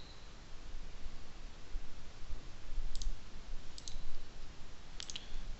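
A few faint, sharp mouse clicks sound over a steady hiss, one single and then paired clicks spaced a second or more apart.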